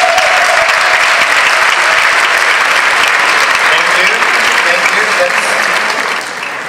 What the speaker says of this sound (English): I want to, you know, hear your applause for them